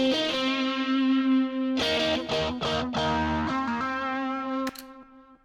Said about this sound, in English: The guitar solo, as you saw, we've got this Echo Boy delay.